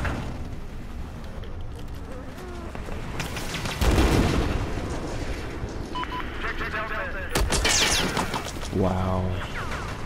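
Gunfire from a boat in the video game Battlefield 4, bursts of shots and booms among game effects, with a voice talking throughout.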